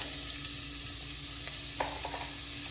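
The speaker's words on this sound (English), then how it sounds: "more of the olive oil just for the onions to fry up in" Onions frying in olive oil in a pan for homemade cheeseburger macaroni make a steady, fairly quiet sizzle, with a few soft clinks and scrapes near the end.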